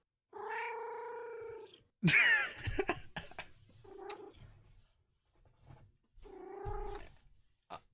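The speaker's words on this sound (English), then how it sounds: "she's just purring her little ass off" A cat purrs and trills up close in a quiet room, bursts of rolling purr broken by a sharp brushing clatter and a few soft meow-like chirps.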